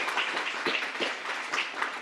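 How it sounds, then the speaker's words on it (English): Crowd applause for educators and program directors at a STEAM education program launch at the Boston Children's Museum, a steady wash of many hands clapping throughout with no voices on top. "Let's give them a round of applause"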